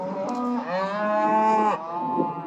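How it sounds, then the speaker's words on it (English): Cattle penned in a corral before calf vaccinations give one long, loud, close moo that wavers in pitch, followed by a shorter low call. "now we have all the cows in the corral"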